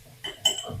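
Capsicum fry being stirred in a pan: a few light clinks of a utensil against the metal pan, close and fairly quiet, with soft scraping between them.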